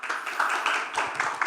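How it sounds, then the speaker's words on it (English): Brief audience applause at a conference as a speaker is welcomed to the podium, a short burst of dense clapping lasting about a second and a half, fairly close and loud. "Can we have a round of applause in welcoming him to the podium?"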